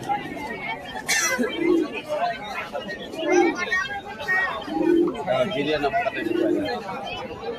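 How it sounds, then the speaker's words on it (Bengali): Pigeons caged at a market hat in Beldanga give soft, rhythmic cooing phrases every second or so under a busy background of voices and market chatter. "এই খাঁচার মধ্যে কিছু কবুতর দেখায় তোমাদেরকে।"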